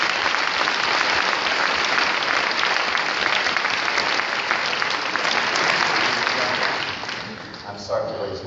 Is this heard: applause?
yes